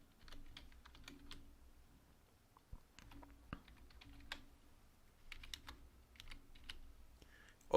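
Keys clatter on a computer keyboard as a username is typed in, quick irregular clicks in short bursts at low level with no talking.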